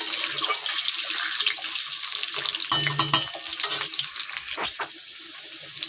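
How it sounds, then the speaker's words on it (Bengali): Potatoes fry in a pan with turmeric and salt, giving a steady sizzle that mixes with watery splashing and scraping stir sounds, moderately loud and close. "এবার আলুগুলো খুব ভালো করে ভেজে নেব, একটু হলুদ একটু নুন দিয়ে"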